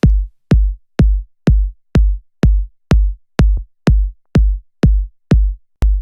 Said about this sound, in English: As far as the kick goes, sounds like this.